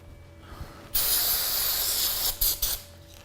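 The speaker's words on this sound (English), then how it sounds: "So use a little contact cleaner, get some of that spooge out of there." Contact cleaner sprays onto the cable and lever pivot of a bike in one long loud hissing burst, followed by a few shorter close puffs.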